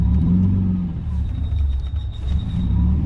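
A car engine rumbles and revs in a rebuilt car, deep and loud up close, surging and settling over a few seconds with a faint whine on top.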